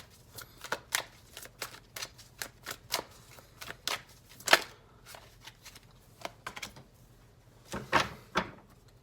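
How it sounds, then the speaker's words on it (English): Tarot cards shuffled and drawn from a deck, a run of soft crisp riffling flicks and slaps in an uneven rhythm, close and fairly quiet, with no talking. "I'm going to go ahead and pull out one more card for you guys."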